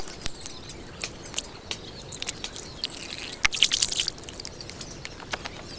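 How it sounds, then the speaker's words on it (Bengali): Two potatoes and four eggs are washed by hand in water in a home kitchen, with steady splashing, dripping and small knocks of the eggs and potatoes, close and continuous. "এখানে আমি দুইটা আলু আর চারটা ডিম নিয়ে নিছি ভালোভাবে ধুয়ে নেব"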